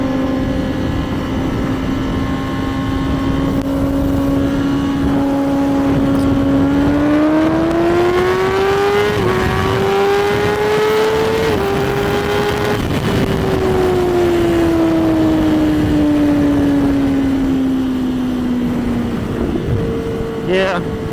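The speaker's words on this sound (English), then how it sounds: "see that Audi floor it." An Audi accelerating hard, a steady engine note climbing in pitch through the gears over about twenty seconds, then easing off as it passes; loud and continuous, with people talking over it.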